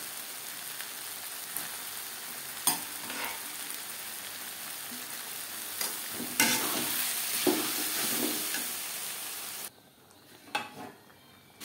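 Boiled yellow peas stirred into spices and mutton fat in a pan for ghugni, a continuous frying sizzle broken by several sharp scraping stirs, ending in a quieter stretch with a couple of light clatters.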